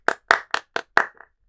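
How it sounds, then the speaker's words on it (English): A lone person claps their own hands five times in a quick, slightly uneven burst, close and crisp, with a faint softer clap trailing at the end and silence around it. "Clapping to myself."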